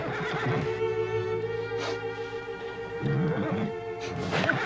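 A horse whinnies loudly and nearby, with several drawn-out neighs and snorts over a low rumbling background, heard alone without speech.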